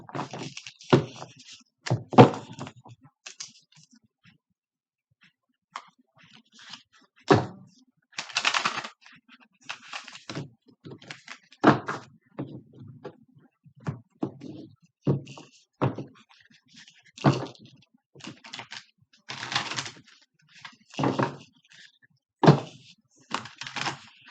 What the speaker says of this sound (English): I'll go ahead and shuffle these for you.